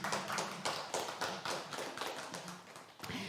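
Audience clapping at a Buddhist dharma talk, heard as a run of sharp, fairly close hand claps in an irregular rhythm, with no speech over it.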